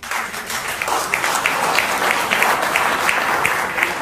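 A theatre audience at a German political cabaret show bursts into loud, sustained applause, dense clapping filling the whole stretch at a steady level from start to finish.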